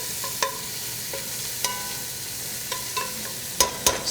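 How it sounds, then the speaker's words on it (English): Bacon frying in a pan, a soft steady sizzle broken by several sharp clinks and scrapes of a utensil stirring it, sounding sporadically and clustering near the end, close with no talking. "you want to just stir the bacon every once in a while."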